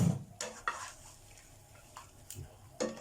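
Bean sprouts are stir-fried in a pan without oil, heard as soft scrapes and clinks of a utensil against the pan over a faint sizzle, with the strokes spaced irregularly and kept quiet and close.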